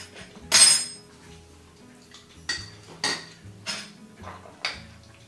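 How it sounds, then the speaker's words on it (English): A spoon stirs Greek yogurt sweetened with Splenda in a bowl, producing a bright clink at the start and then five or six quieter taps and scrapes at uneven intervals, close up in a quiet kitchen. "And I'm going to stir it up."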